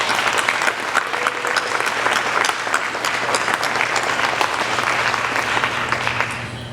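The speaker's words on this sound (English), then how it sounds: "let's give one final round of applause for all of these great nominees" An audience at an awards event for pandemic heroes claps steadily and warmly for the nominees, a dense, sustained round of applause that tapers off slightly at the end.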